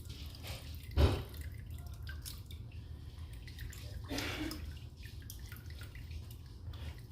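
Water draining from a homebrew vanilla porter setup: faint trickling and dripping with one sharp drip or splash near the start and a brief swell of flowing liquid later, quiet and close.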